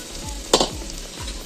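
Onion frying in a pan for egg curry, a steady close sizzle broken by a few quick scraping stirs and one sharp clatter of the spoon against the pan.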